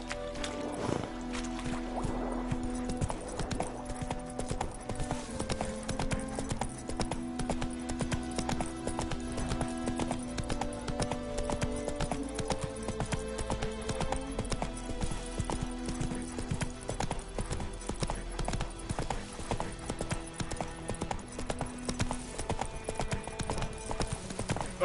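In The Witcher 3: Wild Hunt, the horse Roach trots with steady rhythmic clip-clopping hooves over game music, loud and continuous throughout.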